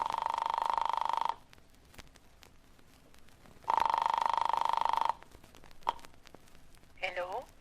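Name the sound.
telephone dialing and ringing, radio drama sound effect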